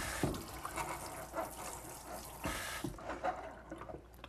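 Tap water runs into a kitchen sink for a rinse after the basin is drained, a soft steady splashing wash with a few brief knocks, fairly quiet and alone.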